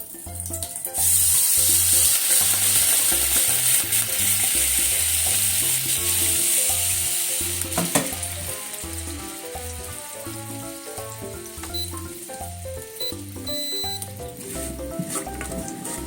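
Sweet potatoes sizzle in a pan with sugar as a steady hiss that is louder in the first half, heard beneath rhythmic background music.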